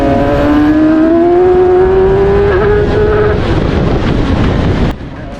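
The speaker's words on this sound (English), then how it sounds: "if you listen to the second to third upshift as I'm coming out of Druids at the top here, you'll hear a gear change very much missing" A race car pulls hard coming out of Druids, engine note climbing through second gear before a botched upshift to third interrupts the rise, with a stumble and wind rush at close range.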